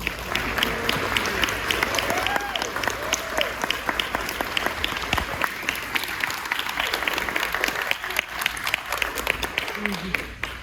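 Audience applause at a presentation on the Stahl House, a dense, steady clapping that fills the whole stretch, with some voices and cheering mixed in beneath it.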